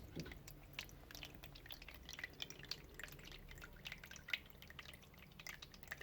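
An automatic pet water fountain for dogs, cats and rabbits refills itself after running low, giving faint, steady trickling with scattered small drips close by and no talking.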